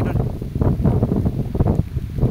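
Strong wind buffets a microphone on a mountaintop, a dense roaring rumble with gusty swells throughout the short span, close and loud.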